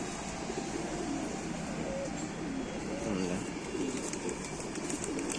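A domestic-breed pigeon in Rampur coos in a repeated, soft, rolling pattern, moderately close, over a steady background hum with faint voices in the distance.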